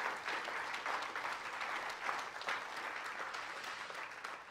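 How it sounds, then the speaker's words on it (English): A round of applause for graduating students at a ceremony, a continuous, even clatter of many hands from a sizable audience, moderately distant and unbroken by speech. "Let's give them one more round of applause."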